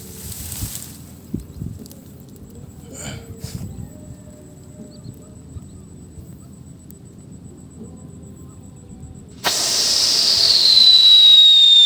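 A homemade provincial Scream Yakult firecracker from Zamboanga, Mindanao, tested outdoors: a few faint pops and crackles over quiet ambience, then a sudden loud, sustained screaming hiss with a shrill descending whistle that lasts to the end.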